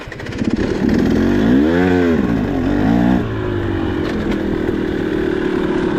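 A 2023 300XC enduro motorcycle rides past up close, its two-stroke engine rising and falling in pitch as it revs, then settling into a steadier drone.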